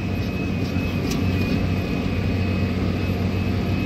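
Steady drone heard inside the cab of a Case PUMA 225 CVX tractor while discing stubble, a constant low engine hum with a thin high whine running throughout, loud and unbroken with one brief click.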